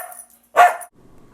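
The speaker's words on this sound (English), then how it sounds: "this is our dog" A single sharp dog bark rings out up close at moderate loudness, set in a rural countryside home-building setting in Belize, with a little quiet background before and after.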